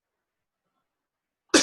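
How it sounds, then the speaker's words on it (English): A single sharp cough bursts out at the very end after a long stretch of silence, close and fairly loud. "excuse me, good time to cough"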